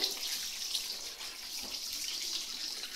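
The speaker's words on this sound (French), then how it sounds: "vous rincez ensuite soigneusement vos mains, histoire de ne pas en mettre absolument partout" Water runs steadily from a tap into a bathroom sink as hands are rinsed, a continuous close hiss with faint splashing throughout.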